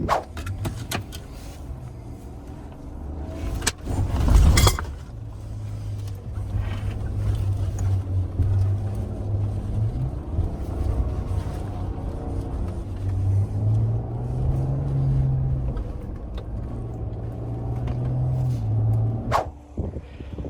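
An Ineos Grenadier's engine drones and shifts pitch as it drives over rough desert ground in the Sahara, with a loud thump and rattles along the way.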